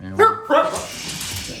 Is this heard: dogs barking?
yes